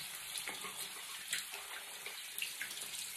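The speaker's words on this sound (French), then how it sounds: "Je rince les mains." Hands rinse under a running bathroom tap, a soft continuous splash of water with small irregular spatters, faint and close.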